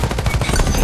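Rapid automatic gunfire in the mobile shooter Farlight 84, a loud, close burst of evenly spaced shots with no talk over it.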